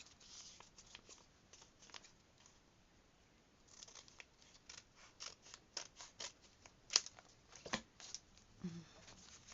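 Scissors trimming the edge off a piece of paper for a junk journal, a quiet run of close, crisp snips that quicken and grow louder toward the end.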